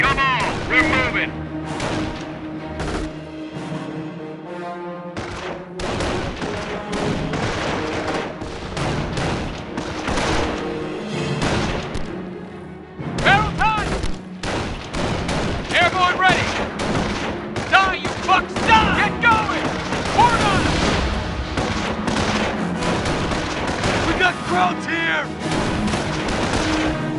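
Squad gunfire in Company of Heroes during the Normandy invasion: dense rifle and machine-gun fire with explosions, continuous and loud throughout, with short voiced unit callouts and game music mixed in.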